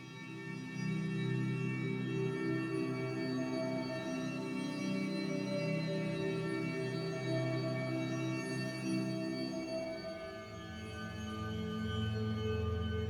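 A sustained synthetic pad built in Ableton from a looped, crossfaded sample through a hybrid reverb holds steady, layered tones with a slow swell and fade, close and alone with no voices.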